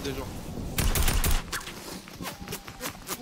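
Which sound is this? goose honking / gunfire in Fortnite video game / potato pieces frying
gunfire in Fortnite video game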